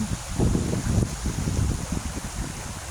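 Gusty wind buffets the microphone with a low, rumbling roar beside Tagbangan River, rising and falling, with a faint watery wash of the river behind it.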